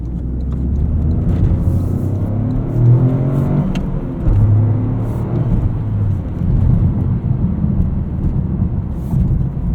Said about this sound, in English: Gearing is nice and short in this GR Corolla. It just loves to row through the gears.